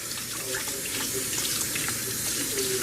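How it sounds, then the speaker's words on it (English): Tap water runs steadily into a kitchen sink while a knife is rinsed during home cooking with poultry, a constant close hissing flow with a few faint clinks. "Let me rinse off my knife."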